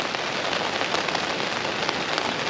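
Steady rain pattering down on a surface on the West Highland Way in Scotland, a dense continuous hiss with scattered drops, fairly loud and unbroken.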